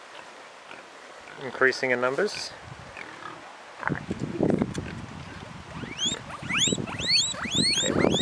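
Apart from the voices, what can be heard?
guinea pigs squeaking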